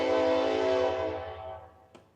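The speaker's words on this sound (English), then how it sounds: "Terrible timing for that train horn" A loud, sustained train horn blares as one long tone near a Little League baseball game, then fades away as the train moves off, with a brief click near the end.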